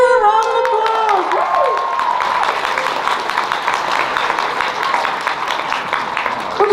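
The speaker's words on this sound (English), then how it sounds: "Give her a round of applause." Audience at an anime convention opening ceremony breaks into loud, sustained applause and cheering that fills the room, with a brief voice at the start fading under the dense crowd noise.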